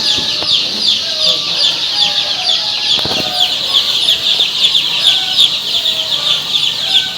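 Tiger chicken chicks in a brooding farm, a dense flock cheeping and clucking continuously up close, with a few brief knocks and wing flutters among the constant chatter.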